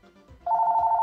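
Phone ringing in the video game A Small Car 2, a steady electronic ring tone that starts abruptly and sounds clear and close with no talk over it.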